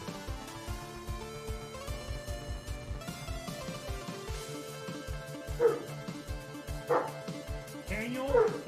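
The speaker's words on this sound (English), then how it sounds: "Sorry for the barking dogs." Several dogs bark in quick repeated yips and woofs over game background music, growing louder and sharper toward the end, with a voice speaking across them.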